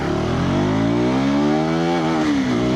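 A KTM Adventure 390 motorcycle accelerates hard in first gear, its engine note rising steadily and loudly as revs climb, then dipping briefly near the end, close and unbroken with no talk.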